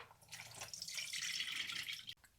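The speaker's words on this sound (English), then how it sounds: "I'm going to drain the water and weigh it again." Water from a can of chicken drains into a sink in a steady trickling splash that lasts about two seconds.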